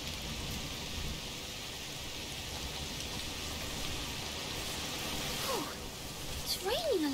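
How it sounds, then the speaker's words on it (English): Steady, heavy rainfall hissing continuously in the video game A Plague Tale: Requiem, with a voice briefly speaking near the end. "It's raining a lot."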